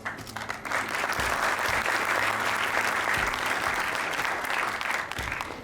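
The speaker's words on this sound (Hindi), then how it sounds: "But it should be a big round of applause." Conference audience breaking into a long, dense round of applause, loud and sustained for several seconds with steady clapping throughout and no talk over it.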